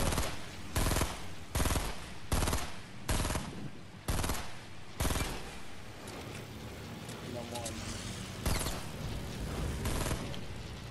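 Rapid bursts of video-game gunfire crackle over and over, loud and close, with short pauses between volleys and a steadier barrage toward the end, from a squad shooter match.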